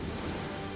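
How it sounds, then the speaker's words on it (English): A brief ocean wave splash, a short, even wash of water noise with a soft whooshing texture, alone and moderately quiet. "But a wave splashed, and Blue was saved."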